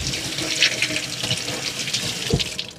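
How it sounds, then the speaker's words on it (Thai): Kitchen tap water runs and splashes as ingredients for tom yum goong are rinsed, a continuous close-up rush with a couple of sharper splashes. "เดี๋ยวเราจะล้างส่วนผสมก่อน"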